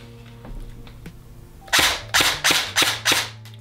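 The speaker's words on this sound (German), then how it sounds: "Hauen wir auch nochmal ein paar Schuss raus." A Krytac Vector airsoft rifle fitted with an Acetech Brighter C tracer unit fires five sharp, loud, close cracks in quick succession after a quiet pause.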